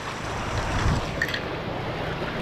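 Ocean waves washing onto an island shelling beach, a steady broadband wash with a gentle surge near the middle, mixed with wind buffeting the microphone.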